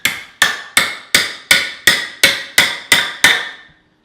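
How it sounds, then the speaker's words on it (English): Ten sharp, evenly spaced hammer blows drive a broken knife blade into a homemade wooden cockatiel stand, each strike ringing briefly and loudly before the next, with no talking. "and you hammer it down."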